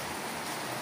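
Heavy rain pours steadily on a walk home from school, a dense, even hiss with no clear individual drops, fairly quiet and continuous throughout.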